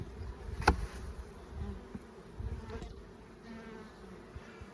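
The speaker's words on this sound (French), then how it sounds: "Pour que le reste d'abeilles retourne à la ruche." Bees buzz softly around a hive, a low humming drone with a brief sharp knock partway through and scattered small rustles.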